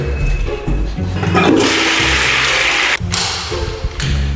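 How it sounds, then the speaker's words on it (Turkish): A home toilet flushing close by, a loud rushing surge of water lasting several seconds with a brief dip and thud near the end, no talk. "Sifonumuz çok iyi çalışıyor."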